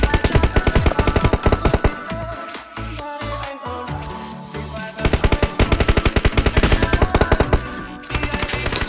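Rapid automatic gunfire in the mobile battle-royale game PUBG Mobile, loud and close, in dense repeated bursts with a brief lull of scattered shots midway before the fire resumes.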